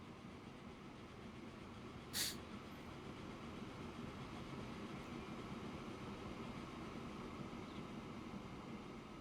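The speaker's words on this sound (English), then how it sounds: "Oh, I've got to wait for these trains to go." Trains rolling past in the railway simulation game Transport Fever, a faint, steady low rumble with a soft clatter and one brief bright chime early on.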